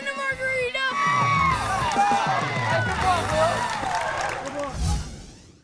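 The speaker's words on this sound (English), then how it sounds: "Can I see your biggest, loudest Santa Margarita cheer?" Rowdy crowd of Santa Margarita fans cheering and whooping at a prep football scrimmage game day, loud and sustained with shouting voices mixed in, fading near the end.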